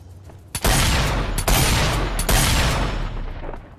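Shotgun blasts in the VR shooter Sniper Elite VR: three sharp, loud reports about a second apart, each trailing into sustained rumbling gunfire noise.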